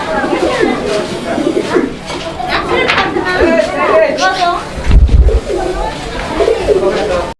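Pigeons for sale coo repeatedly close by while people talk over them, with some chatter and a brief low thump partway through.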